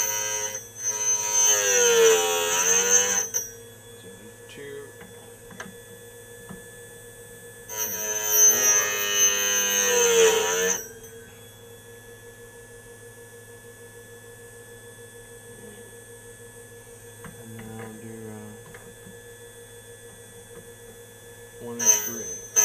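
Carbide end mill grinding machine switched on and running, two loud rising whirs as the motor spins up, separated by a long steady mains-like hum, with a brief burst at the end; no talk.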